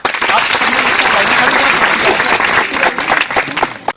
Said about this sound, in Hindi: इन सभी के लिए तालियां।